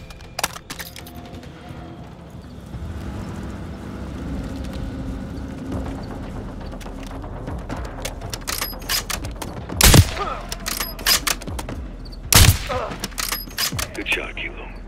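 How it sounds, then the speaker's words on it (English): Rapid gunfire bursts in the Call of Duty MW3 campaign at a crash site, rattling volleys building in density with two sharp loud shots standing out, under game ambience and a voice. "Good shot, Kilo"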